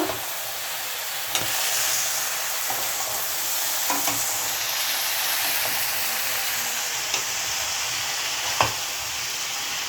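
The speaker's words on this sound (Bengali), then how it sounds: "আবার ভালো করে নাড়িয়ে নেব।" Tomatoes and chopped vegetables fry in a pan for a fish chorchori, a steady close sizzle running throughout with occasional sharp scrapes and taps of a spoon as they are stirred.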